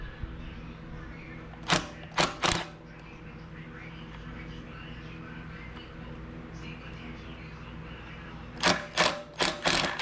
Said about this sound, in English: So let's take the manifold off. Yeah, I'm really liking this little mini impact.